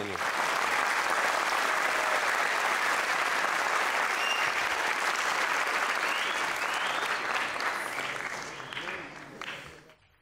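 An audience claps loudly and steadily for about ten seconds at a motivational talk, a dense unbroken wash of applause that tapers off near the end.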